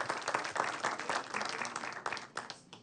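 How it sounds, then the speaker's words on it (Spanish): Audience at an anticorruption conference applauding a panelist, dense close clapping that swells and continues steadily for a few seconds. "démosle un aplauso, por favor."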